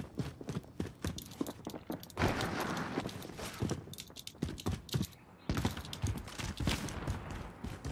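Quick, light footsteps patter in Warzone, irregular and fairly close, with brief pauses between runs of steps over a faint background.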